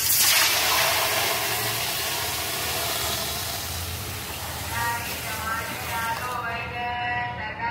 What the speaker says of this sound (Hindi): 3 लीटर पानी डाल दीजिए